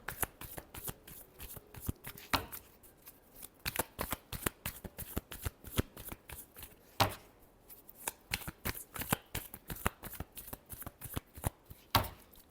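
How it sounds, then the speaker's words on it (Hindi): Tarot cards being shuffled by hand, close up: a run of crisp, quick papery slaps and riffles in irregular bursts, with short pauses between them. "Last shuffle."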